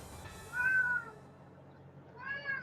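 A cat meows twice, close and clear, a drawn-out meow followed after a pause by a second rising one, over a quiet background.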